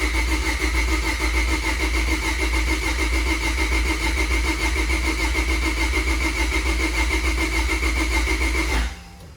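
Turbocharged D16 engine in a Honda Civic EK Champ Car race car fires up and runs steadily, a loud close droning idle with a dense rough buzz throughout, cutting out abruptly just before the end.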